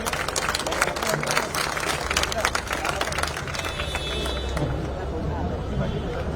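Crowd applause at a political party joining ceremony in Mumbai, welcoming new members into the BJP, with steady clapping mixed with crowd babble and hubbub throughout.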